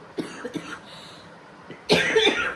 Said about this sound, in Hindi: संगवारी बहुत ज़्यादा खांसी है